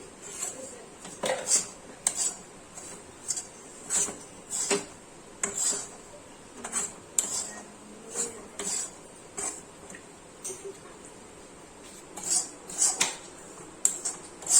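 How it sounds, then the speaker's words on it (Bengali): A utensil stirs spicy suji halwa with turmeric in a pan, clinking and scraping against the metal in a steady rhythm of repeated close strokes. "এখানে ভালোভাবে আমরা লাড়িয়ে নিচ্ছি একদম"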